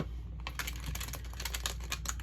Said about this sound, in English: shuffle the deck